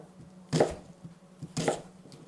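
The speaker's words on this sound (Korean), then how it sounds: "그냥 크게 다이스 잘라줍니다." A knife chops pork belly into large dice on a board, giving two distinct, close, solid chops about a second apart over quiet background.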